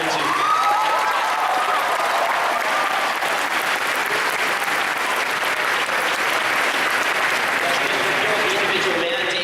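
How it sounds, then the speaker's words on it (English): A large audience at a keynote speech at a Turning Point USA event applauding, with sustained dense clapping that holds steady at a strong level for the whole stretch and a voice faintly audible over it. "I deserve a massive round of applause for this tax reduction"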